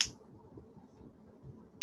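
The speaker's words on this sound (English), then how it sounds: "when I snap my fingers" Fingers snap sharply twice, one crisp click at the start and another near the end, close and alone over a quiet background.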